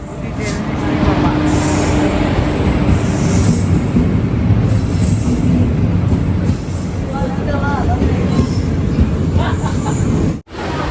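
A train rumbles past close by, a loud continuous roar with faint wheel squeals and voices in the background, cutting off abruptly near the end.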